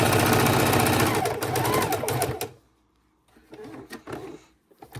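A sewing machine stitches fabric onto a rubber mat for a jar opener, running in a loud steady mechanical whir for about two and a half seconds, then stopping, with a few quieter bumps and handling sounds afterward.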